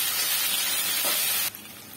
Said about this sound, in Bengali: এগুলো এখন নেড়ে চেড়ে একটু ভেজে নেব